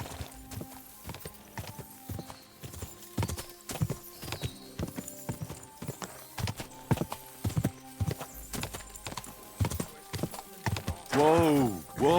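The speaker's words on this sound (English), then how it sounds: "There's a guy running on a horse." Rapid clip-clop of hooves pounds along in an uneven galloping rhythm in the video game Kingdom Come: Deliverance II, close and loud, ending with a sharp horse whinny.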